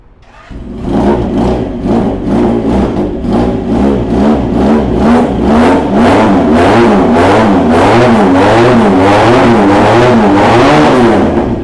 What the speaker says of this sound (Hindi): इसमें एससी का एग्जॉस्ट लगा हुआ है जी और एससी के एग्जॉस्ट से 300 सीसी ड्यूल सिलेंडर का साउंड काफ़ी अच्छा निकलता है।